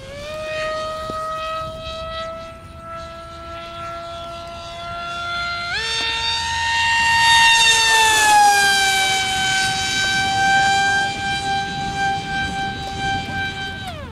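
Radio-controlled model airplane engine on a test flight, a steady high-pitched buzzing whine that jumps up in pitch partway through, swells louder as the plane passes, then holds a wavering drone.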